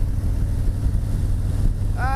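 A Harley-Davidson Road Glide Ultra touring motorcycle rolls along the road, its low steady engine rumble mixed with wind buffeting on the microphone, loud and continuous.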